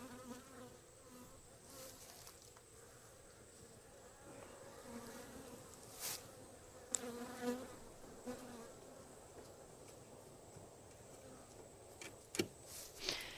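Honey bees buzz around an opened hive during a split, a steady low drone of many insects with individual bees zipping close past at times, fairly quiet and alone without talk.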